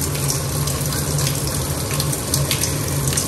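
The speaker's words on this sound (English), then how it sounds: "I'm just trying to rinse off this rice." Rice rinsed under a running kitchen tap, with a steady close gush of water splashing through the grains, continuous and fairly loud.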